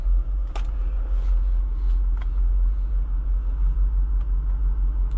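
Heard from inside the cabin, a 2024 Jeep Wrangler Rubicon 392 Final Edition rolls along the road with a deep, steady engine and tire rumble, broken by a few faint clicks and knocks.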